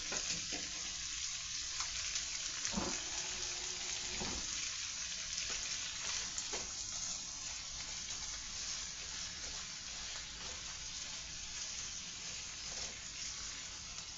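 Butter frying in a pan for a cabbage and corned beef dish, a steady close sizzle with soft scraping stirs running throughout at an even, moderate level.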